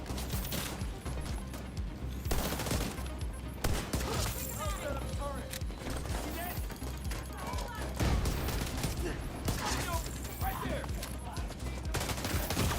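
Bursts of automatic gunfire and scattered shots from The Division 2 shooter game rattle through the scene at moderate loudness, mixed with game effects and players talking over the action.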